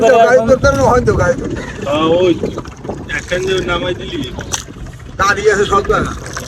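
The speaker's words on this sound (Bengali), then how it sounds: "এখন আমরা নৌকে আছি নৌকা" Boat moving on a river, with wind and water noise under people talking close by.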